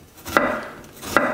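Two crisp knife strokes slicing an onion into strips against a cutting board, about a second apart, close by with a quiet kitchen hush between them.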